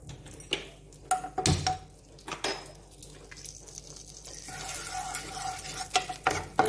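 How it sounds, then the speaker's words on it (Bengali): Ghee with bay leaf and cardamom sizzles softly in a pan, with scattered sharp clinks and scrapes of a utensil against the metal and a steadier frying hiss building toward the end. "অল্প ঘি দিচ্ছি, তেজপাতা আর এলাচ দিচ্ছি।"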